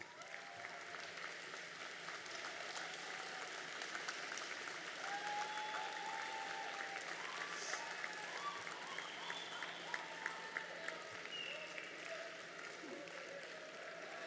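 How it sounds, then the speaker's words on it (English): Graduates at a high school convocation applaud the audience of loved ones, a steady broad wash of clapping from a large crowd filling the hall, moderately distant, with faint murmuring beneath. "Graduates, please rise, turn around, and give the audience, your loved ones, a round of applause."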